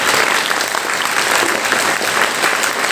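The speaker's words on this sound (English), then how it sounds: "let's give them a big round of applause" School assembly audience clapping loudly and continuously, a dense, even wash of applause from a crowd with no break.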